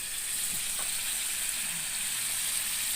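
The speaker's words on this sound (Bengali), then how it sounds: "এবার চিংড়ি মাছটা কষানো হয়ে আসছে। এবার দিয়ে দিব ডাটা।" Young vegetable stalks sizzle as they go into a pan of frying prawns, a steady, even hiss of oil that holds at the same level throughout, with no voices.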